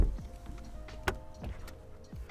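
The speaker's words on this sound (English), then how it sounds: "and you also have soft closing doors on here." A soft-closing door on a 2020 Bentley Continental GT V8 draws shut with a quiet electric whir followed by a muted latch thunk, close and faint, with small clicks around it.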